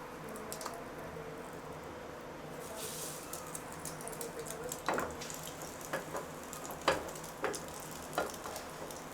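French toast fries in a pan with a steady, close sizzling hiss, punctuated by scattered sharper pops and spatters that grow more frequent toward the end.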